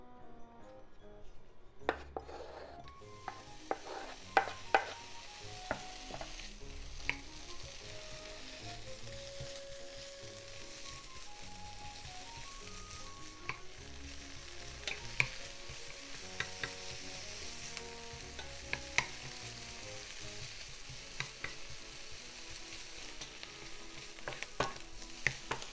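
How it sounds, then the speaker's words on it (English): Bacon sizzles in a hot frying pan with no oil, a soft continuous crackle beneath frequent clicks and scrapes of a utensil stirring against the pan, with no talking. "Heat up frying pan over medium-high heat and let's cook the bacon first."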